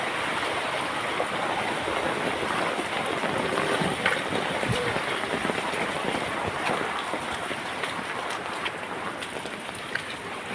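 Steady broadband rush of flowing water fills the whole stretch, a continuous river-like roar at moderate level with no talking.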